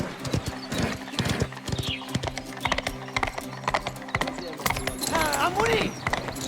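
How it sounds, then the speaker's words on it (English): Hooves clip-clop in a steady galloping rhythm as a horse is spurred on during a race in the video game Mafia: The Old Country, with a whinny near the end and a voice talking over it. "we can spur Andiamo. the horse"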